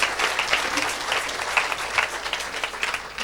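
A church congregation claps for the Lord, sustained applause from a crowd with a steady, slightly rhythmic patter throughout.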